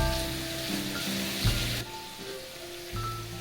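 Thinly sliced pork belly frying in a pan with garlic and ginger, a close, steady sizzle with occasional stirring clatters.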